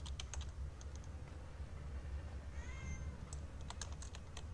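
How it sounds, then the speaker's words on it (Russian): In the Penumbra Overture video game, a cat tries to break through a door, giving a single drawn-out meow midway, faint against low rumble and scattered computer keyboard clicks, with no voices. "если она не слышит, как кошка ломится в дверь"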